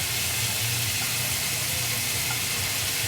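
Onions and curry leaves sauté in a pan with a steady, close hiss and sizzle that holds at an even level throughout, with no voices.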